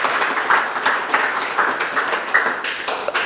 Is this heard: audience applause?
yes